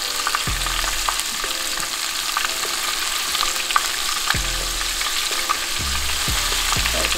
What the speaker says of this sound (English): I'm only doing this to sear them. So they can get brown